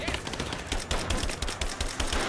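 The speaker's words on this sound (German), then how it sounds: "Ich finde den Schuss ganz schön langsam dafür, dass es eine AK ist" Rapid bursts of AK rifle fire in the video game Rise of the Tomb Raider, a fairly slow rhythmic string of shots running steadily throughout, loud and close with no talking.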